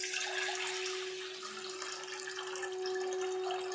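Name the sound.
draining water from soaked urad dal and rice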